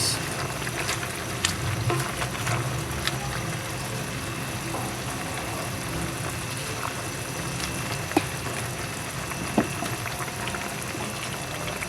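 Vegetables bubbling in a pot of boiling water, a steady close rolling simmer with occasional small pops and clinks, no voices.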